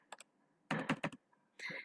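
Computer keyboard keys clatter in short clustered bursts while an Nmap command goes in: a couple of quick taps, a tight run of strokes, then another brief flurry, close and clear.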